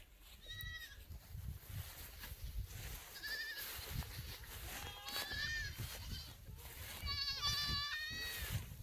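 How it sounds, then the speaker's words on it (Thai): Goats on a farm bleat repeatedly from several directions, some calls near and some farther off, over a low rustling and breezy background, with a person talking faintly at moments. "แพะเยอะแยะเป็นร้อยร้อยเลยอะ่ะ"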